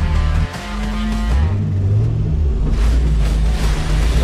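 A drift car engine rumbles loudly up close and revs, its pitch rising and falling once before settling back into a steady growl, at a drift park.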